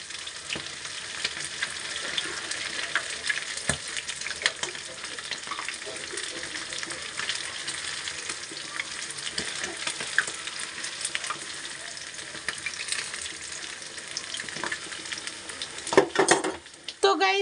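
Pakoras fry in a pan of oil with a continuous dense sizzle and bubbling, steady and close, with occasional utensil clinks and a burst of louder scraping near the end.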